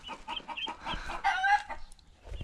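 Old Dutch hens being let out into a farmyard cluck and squawk in quick, close bursts with a brief higher cry in the middle, loud and busy without speech.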